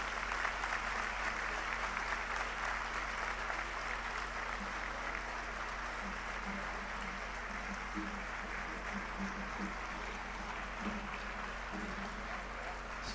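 An audience at a Panchkalyanak religious gathering in Guwahati claps in continuous, dense applause to welcome the governor, a broad steady wash of sound with no clear break, while voices are heard underneath.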